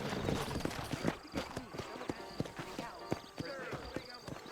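Horse hooves clip-clop in an irregular gait in the western video game Red Dead Redemption, set in a New Austin town, with a neigh and a voice speaking over the hoofbeats.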